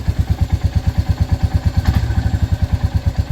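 A Royal Enfield Meteor 350 bobber's single-cylinder engine running nearby, a loud, steady low thumping pulse that rises briefly in the middle before settling back to an even idle beat.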